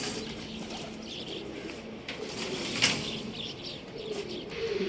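Pigeons coo on a rooftop loft, soft low murmuring calls that continue steadily through the clip with a faint wing flutter near the middle. No one speaks.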